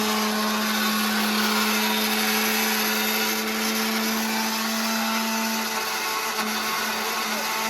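A mixer grinder whirring steadily as it grinds ginger and coriander into a paste, a loud continuous motor whine with a strong hum that holds unbroken from start to finish, close by, with no talking.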